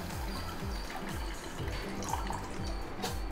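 Tamarind water poured into rasam makes a soft, close trickle and dribbling liquid sound, steady and low-level with faint splashy pulses and no talk.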